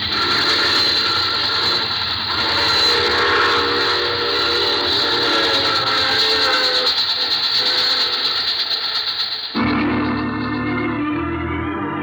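Train sound effect from a vintage radio drama about a passenger train: continuous loud rumbling rail noise with a sustained whistle tone, cutting off abruptly near the end into a different, quieter sound.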